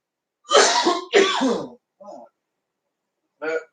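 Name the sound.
coughing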